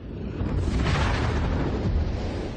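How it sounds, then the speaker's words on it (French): A gigantic explosion of solar plasma loops, rendered as a loud, continuous roaring rumble with heavy low-end weight that holds steady for a couple of seconds, with no voices. "Alors, elles se court-circuitent en une gigantesque explosion."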